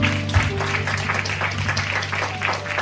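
A church congregation applauds during a worship service after a prayer. Continuous rippling clapping from a crowd is heard, fairly loud, with a low hum and faint voices underneath.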